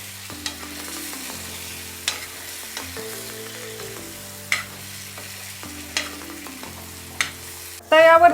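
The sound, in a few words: frying stuffed green peppers in spice masala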